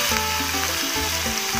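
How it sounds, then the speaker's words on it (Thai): Continuous sizzling and crackling of beef frying in a hot electric pan, with a steady low hum underneath. "เมื่อหม้อกระทะเดือดแล้วนะครับก็นำเนื้อลงไปเลยนะครับ"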